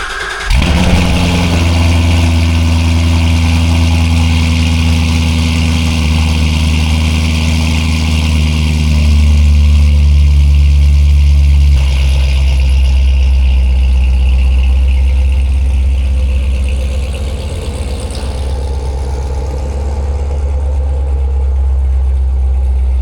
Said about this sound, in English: I think I'm gonna give you a cold start here.